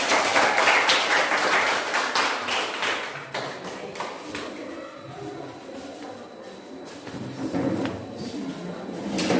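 A classroom group during a teacher-training session claps in a dense, fairly close burst that gradually thins into scattered claps and taps.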